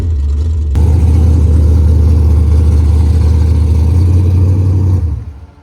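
A Mitsubishi Conquest launches hard on a race track, its engine note jumping abruptly to a loud, sustained pull that holds for several seconds before fading as the car moves away.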